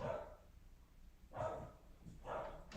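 A dog barks three times upstairs as it tries to get out, the muffled barks spaced about a second apart and heard faintly from another room.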